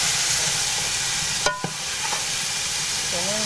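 Chickpeas stir-fried with spices in a pan for white chana pulao: a constant loud sizzle with a sharp metallic clank of the spoon partway through and faint squeaks and scrapes afterward.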